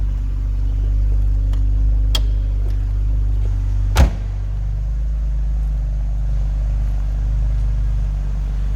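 A 1999 BMW Z3 roadster's 2.3-liter inline six idles steadily from behind the car, a constant low rumble with a single sharp click or door-like thump partway through.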